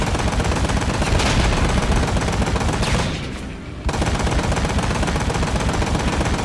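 Rapid, sustained automatic gunfire from the video game Ride to Hell: Retribution rattles loudly and continuously, pausing for a moment before the burst resumes.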